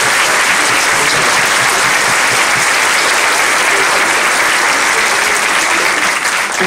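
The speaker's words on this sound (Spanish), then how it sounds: "Y fuerte aplauso," An audience applauds at a theatre performance of the play TOC TOC, with a dense, loud, sustained wash of clapping from many hands that continues without a break.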